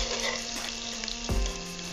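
Paneer frying in a pan, a steady soft sizzle close by with a brief clatter partway through.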